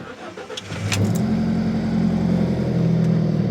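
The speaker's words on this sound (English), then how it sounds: "Here's a cold start." An Alfa Romeo 4C engine cold start: cranks briefly and catches, then settles into a loud, steady high idle after the start.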